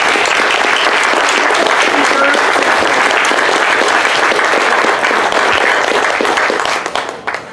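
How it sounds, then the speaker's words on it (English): Loud, dense applause from an audience at a workshop welcoming a speaker, steady and enthusiastic for nearly seven seconds before breaking off into scattered final claps. "So let's give a round of applause to"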